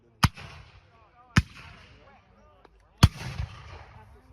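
Musket volleys at a Civil War reenactment at Delhi: three sharp, loud blasts a second or more apart, each followed by a rolling echo and faint background voices.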